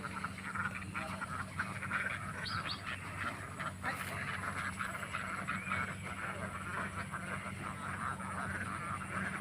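A flock of ducks being kept for sale, calling and quacking steadily in a noisy rural setting, with continuous chattering calls layered over a low background hum throughout.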